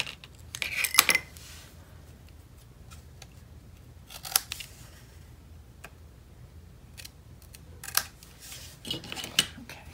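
Scissors trimming paper tabs for a craft project, several short quiet snips in scattered bursts against a faint, near-silent background.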